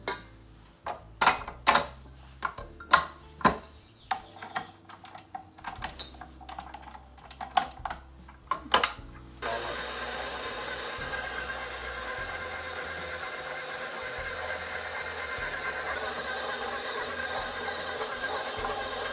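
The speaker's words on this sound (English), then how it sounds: "And then on the mixer it goes" A stand mixer with a dough hook kneads pizza dough. Scattered clicks and knocks come first, then the motor starts into a loud, steady whirring hiss that holds to the end.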